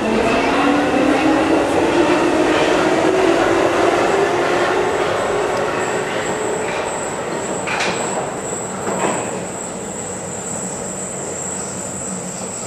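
A metro train pulls into a station on Prague's line A with a loud, continuous rumble and rising wheel whine that slowly eases as it slows, with faint squeals near the end.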